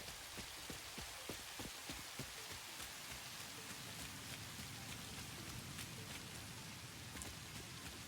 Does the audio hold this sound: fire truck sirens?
no